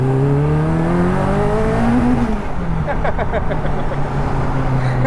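A Caterham sports car, its road-going fastest version, accelerates hard with a loud, rising engine note that climbs through the revs, then shifts and settles into a steady drone, heard close from inside.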